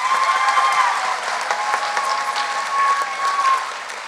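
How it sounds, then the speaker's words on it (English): Steady applause from an audience celebrating a dance school's fifteenth anniversary, with a continuous even wash of clapping that runs throughout and has a faint tonal hum beneath it. "Please give a big round of applause."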